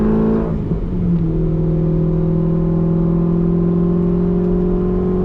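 Chevrolet Corvette C5 engine on a drive, heard from inside the car: a steady, loud, close drone that shifts pitch once early on and then holds an even hum, with no talking.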